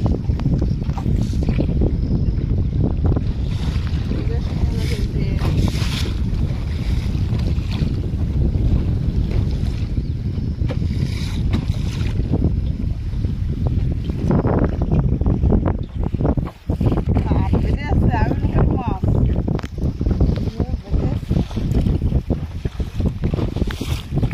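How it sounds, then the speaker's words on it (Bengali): Strong waves slap against a small boat on open water under cloudy skies, with heavy wind buffeting the microphone in a loud, continuous rumble and splashes throughout. "প্রচুর ঢেউ হচ্ছে কিন্তু।"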